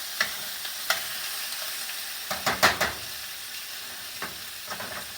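Pork for chile verde browns in a pan with a continuous low sizzle, broken by a few sharp scrapes and clanks of stirring, including a quick cluster near the middle.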